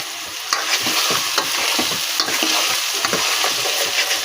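Chopped green chillies sauté and sizzle in a hot pan for prawn gravy, with steady frying crackle and repeated sharp stirring scrapes throughout, close and fairly loud, with no talking.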